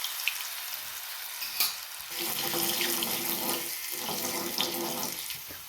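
Garlic paste dropped into hot oil with cumin and mustard seeds gives a steady, loud sizzle and hiss that swells partway through and carries on without break, with no voices.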